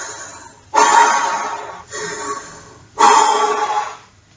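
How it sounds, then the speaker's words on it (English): Power breathing exercise with an open O-shaped mouth, one count in and one count out: three loud, breathy rushes of air close to the microphone, the middle one softer, each fading away before the next. "First breathing exercise is called power breathing."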